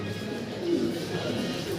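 Soft, low pigeon cooing murmurs steadily throughout, close by, with a faint background hum and no clear talking.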